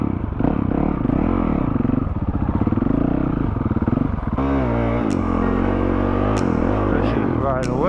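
A 2021 Honda CRF 450 RL dirt bike revs and labors along a rough off-road trail, its engine pitch rising and falling loudly with throttle changes and gear shifts. Clatter and scraping from the terrain are mixed in.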